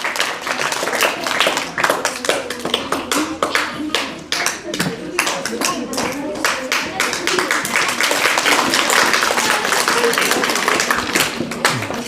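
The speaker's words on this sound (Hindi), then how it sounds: "जोरदार ताली, जोरदार ताली।" Loud, sustained applause fills a school election event, many hands clapping in a dense, continuous patter that swells slightly toward the end.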